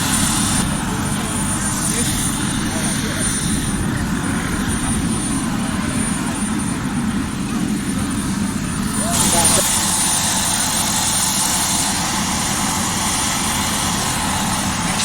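A helicopter engine drones loud and constant at Barton Airport, a steady low mechanical roar filling the background while people talk nearby.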